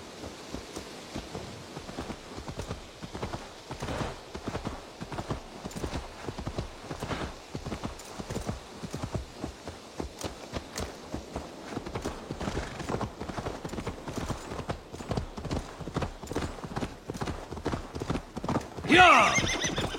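Horse hooves clip-clop steadily at close range in a video game, with repeated whinnies and neighs over a soft rain-like patter, ending in a brief louder burst.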